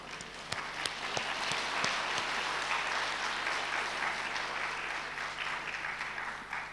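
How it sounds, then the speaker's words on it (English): An audience breaks into sustained applause after a talk, a dense wash of many hands clapping at a moderate distance, steady throughout with a few sharper individual claps standing out near the start. "Thank you, and you can clap."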